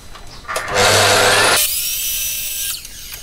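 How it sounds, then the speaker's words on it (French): A mitre saw whines up and bites through wood in one loud, close cut lasting about a second, then spins down with a fading whir. "qu'on va ensuite couper à la scie onglée"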